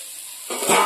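Bitter gourd sizzles in a hot frying pan, a soft steady hiss that swells louder over a brief moment.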